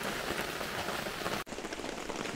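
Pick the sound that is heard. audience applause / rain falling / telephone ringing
rain falling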